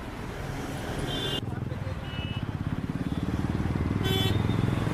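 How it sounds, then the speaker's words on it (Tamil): A motorcycle engine idles and then revs with a steady, rising throb on a roadside during a traffic police stop in Chengalpattu. Traffic noise and background chatter mix with the engine. "கான்ஸ்டபிள் இந்த வண்டியை ஓரம் கட்டுங்கப்பா"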